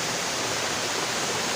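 A rushing mountain stream pours steeply down a hillside gully in the hills, a loud, steady, close roar of churning water that fills the whole short clip with no other sound.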